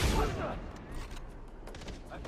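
Gunfire in the co-op shooter game Far Cry 3, a short burst of rapid shots up front that fades into lighter scattered fire, with players chatting over it.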